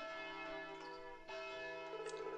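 A bell of blessings chimes at a wedding in the Story of Seasons farming game, ringing out in bright, sustained tones over a steady musical background, with a second strike near the end.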